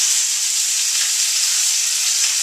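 Turkey sizzling loudly in a pan preheated with vegetable oil, a dense, continuous bright hiss, close and steady with no talking.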